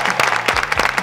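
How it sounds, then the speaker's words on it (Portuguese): A round of applause greets a guest at a women's volleyball team training session, several people clapping in quick, irregular claps close by for about a second. "Uma salva de palmas."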